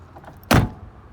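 One solid thud of a 2017 Toyota Tacoma SR5 pickup truck rear door shutting nearby, a short low slam in an otherwise quiet moment.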